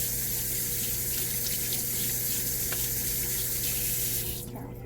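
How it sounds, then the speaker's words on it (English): Tap water runs steadily into a sink during handwashing, a constant close rushing flow that thins out near the end. "Now you're gonna want to wash your hands"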